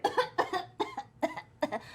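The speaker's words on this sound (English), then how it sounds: "he looks back and sees you coughing over the corpse" A man coughs repeatedly in short, harsh bursts, about five coughs spaced through the moment, close and fairly loud with brief gaps between them.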